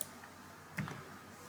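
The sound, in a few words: computer mouse double-click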